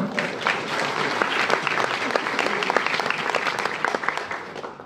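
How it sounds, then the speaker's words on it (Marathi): An audience at an event honouring actor Ashok Saraf breaks into sustained, dense applause, a crowd of many hands clapping steadily throughout at moderate loudness, with a voice faintly present underneath. "परत तुम्ही आता टाळ्या दिल्यात."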